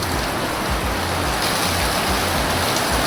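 Rainwater pours off a homemade rain deflector in a steady, loud, broadband rush of splashing water that stays constant throughout with no pauses.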